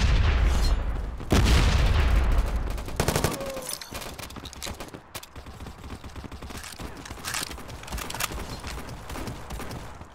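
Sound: grenade explosion amid gunfire in video game Modern Ops

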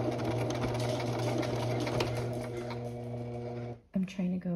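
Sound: sewing machine stitching a fabric placket

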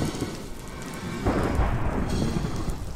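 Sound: thunderstorm in the video game Minecraft

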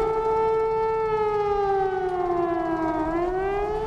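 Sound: air raid sirens in Baghdad

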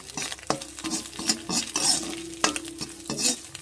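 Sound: egg frying in a pan

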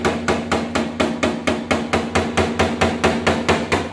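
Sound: small hammer tapping out car body dents, paintless dent repair

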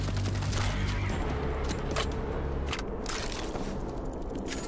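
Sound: auto turret firing in video game World War Z

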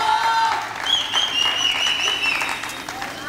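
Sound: audience applauding Panagiotis

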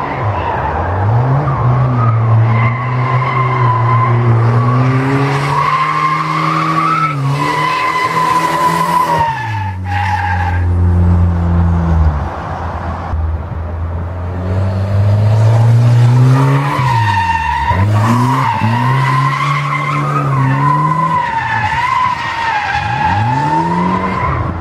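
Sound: Volvo car drifting with tire squeal

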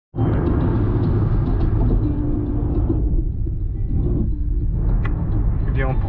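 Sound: car driving on the road

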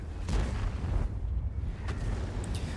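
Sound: tank cannon shots in video game World of Tanks

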